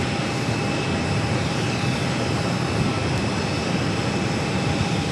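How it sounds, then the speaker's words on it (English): A Frontier Airbus A320neo arriving at Phoenix airport gives a steady, broad jet roar that stays loud and constant throughout, with no voices over it. "Our next arrival is Frontier 4671, Coming in from Detroit on the A320neo, Percy the Florida Panther"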